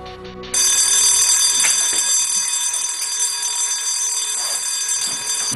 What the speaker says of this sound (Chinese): 值班电话的警铃一旦响起，他们要用最快的速度冲向战机